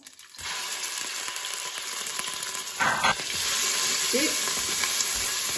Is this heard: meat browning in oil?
yes